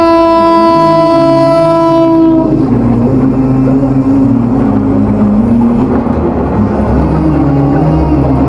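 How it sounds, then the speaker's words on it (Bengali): A train running through a flood-affected area opens with a long loud horn blast, then a heavy close rumble and clatter of wagons rolling past continuously. "বন্যা প্রবলিত এলাকাতে ট্রেন চালু হয়ে গেছে আপনারা দেখছেন ট্রেন আসছে"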